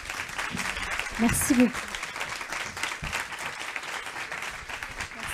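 Audience applause at a round-table event, a steady wash of clapping throughout that swells briefly in the middle, with a voice speaking over it.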